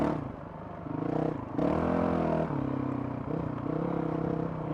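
A Honda CRF 450 RL motorcycle with an aftermarket ECU on its enduro map and open exhaust revs up and down several times, up close, the engine rising in bursts over a clattering idle.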